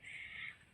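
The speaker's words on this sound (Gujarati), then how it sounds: "પક્ષીઓનો અવાજ આવે મસ્ત મજાના કેસુડાના ઝાડ ઉપર પક્ષીઓ આવે" A single crow in a flame-of-the-forest tree gives one harsh caw, fairly faint and at a distance, with nothing else around it.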